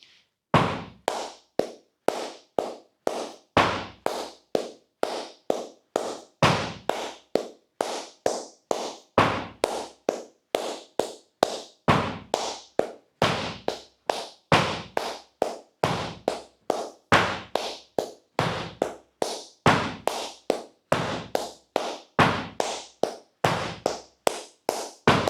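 Flamenco bulerías compás clapped by hand: sharp, close palmas struck in a steady repeating pattern with accented beats, continuing unbroken and loud for the whole stretch with no voices.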